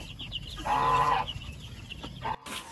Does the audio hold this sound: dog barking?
no